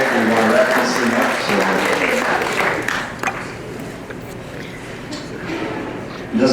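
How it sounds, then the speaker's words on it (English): Audience applause at a dental office's Christmas hypnosis show, a steady patter of clapping that runs the full length, mixed with some talking and crowd noise and thinning slightly toward the end. "let's give Dr. Otter a round of applause"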